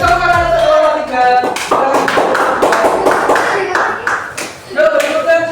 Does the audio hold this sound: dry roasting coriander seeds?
no